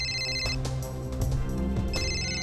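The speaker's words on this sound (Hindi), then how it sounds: "किसका फोन है?" A telephone ringtone plays loudly and close by, a repeating bright electronic melody with a short pause in the middle, heard alone without talk.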